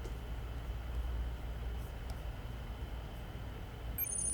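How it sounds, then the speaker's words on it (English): Lenovo Legion 7i gaming laptop fans running during light content playback: a steady, even broadband whoosh with a low rumble, constant and unbroken throughout, with a faint high whine entering at the very end. "here's how the system sounds like while just consuming content"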